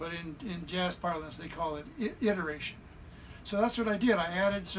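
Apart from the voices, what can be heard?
No distinct noise like a dog, phone or traffic.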